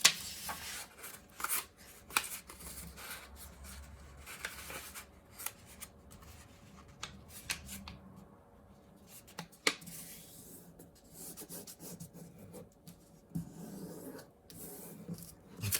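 Origami paper being folded into a tulip, with soft rubbing and rasping creases and occasional sharp crinkles close up, no talking.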